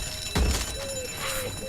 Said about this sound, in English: Shit, it was rigged to the alarm.